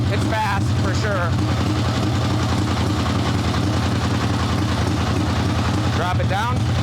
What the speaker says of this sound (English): hear the sound of the motor?